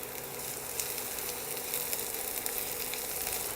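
Chopped onion frying in hot ghee for chana dal, a steady close sizzle with fine crackling pops, even and continuous with no talk.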